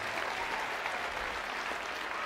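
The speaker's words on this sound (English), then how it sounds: "How about we give Dr. Lanham a really big round of applause" A short burst of steady, moderately quiet audience applause for a speaker at a high and middle school gathering, an even wash of many hands clapping with no talking.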